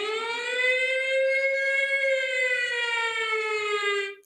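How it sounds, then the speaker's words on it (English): A civil defense style siren sound effect wails steadily for about four seconds, loud and close, then cuts off abruptly, with no voices. "every time I put on that damn siren"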